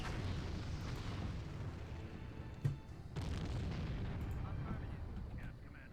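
Artillery in the Empire Earth: The Art of Conquest Asian campaign fires amid dense game battle noise, with one sharp distant boom standing out mid-clip over a constant low rumble.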